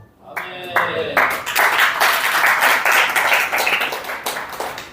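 A lecture audience at a talk on mission heritage bursts into dense, steady applause that swells quickly and holds loud and close for several seconds.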